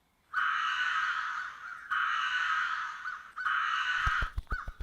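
A crow caws harshly in three long, drawn-out calls separated by brief pauses, loud and close, used as a sound effect in a narrated fable, followed by a quick series of short clipped caws.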